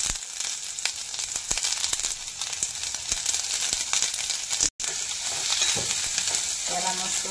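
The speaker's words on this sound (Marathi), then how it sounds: "त्याला मस्त असं परतून घ्यायचं, कांदा थोडा ब्राऊन कलर येऊ द्यायचा कांद्याला" Onion sautéing with mustard seeds in a pan while making a drumstick-leaf bhaji: a steady close sizzle and frying crackle with occasional stirring scrapes, continuous throughout.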